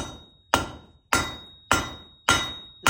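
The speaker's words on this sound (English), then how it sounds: "I'm going to switch to a little bit heavier hammer. This is a 3-pound hammer, and be a little more energetic." Heavy 3-pound blacksmith hammer forging 3/8 square steel stock on an anvil: five loud, evenly spaced ringing strikes, close up, each decaying before the next, with no talk.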